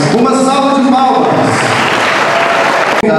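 A speaker's voice at a public panel event gives way to loud, sustained audience applause from a crowd of many hands clapping, which cuts off abruptly near the end.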